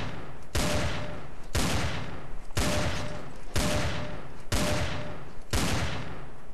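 Six sharp rifle shots in Counter-Strike: Source on the training_aim map, fired about one per second in an even rhythm, each a loud crack with a short fading tail, with no talk.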